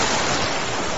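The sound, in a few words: sea waves at night on Dumas Beach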